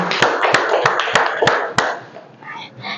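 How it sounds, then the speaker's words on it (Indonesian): Clapping from an audience in a teachers' training session: six sharp, evenly spaced claps ring out over a murmur of voices, then the claps stop and quieter talk continues. "tepuk tangan untuk kita semua"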